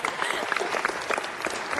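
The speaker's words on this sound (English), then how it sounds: "clap for her" Brief burst of applause at a Los Angeles city council meeting for a young speaker, a busy wash of many hands clapping with some cheering voices mixed in, steady for the whole short stretch.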